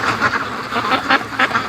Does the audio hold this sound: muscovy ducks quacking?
yes